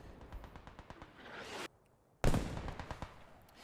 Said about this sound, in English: Still mortars firing on Castile Castle itself.